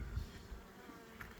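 Faint buzzing of bees hovering nearby, soft and irregular against a quiet background.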